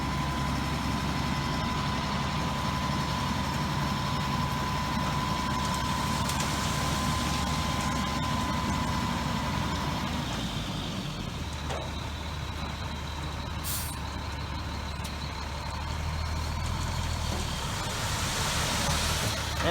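A dump truck hauling chert rumbles steadily throughout, engine drone and rattling of a rough old bed dominating at close range, with faint higher squeals and a brief sharp hiss near the middle, no speech.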